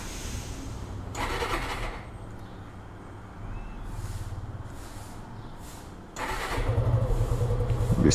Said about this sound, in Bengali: গাড়ির প্রথম কাজ হচ্ছে নিউট্রাল করে গাড়িটাকে স্টার্ট দিয়ে রাখা